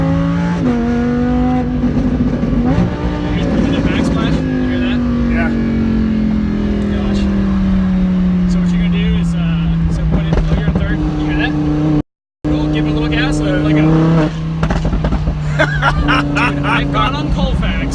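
A loud engine revs up and winds down repeatedly, with sharp crackling pops from the exhaust between pulls and a brief cut in sound.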